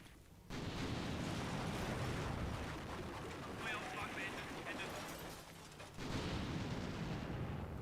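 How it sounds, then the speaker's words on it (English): An artillery line barrage firing in the game Combat Mission: Shock Force 2, a dense, rumbling wall of distant booms and shell bursts that holds steady, dips briefly near the end, then swells again. "it looks like we did switch to a line barrage now"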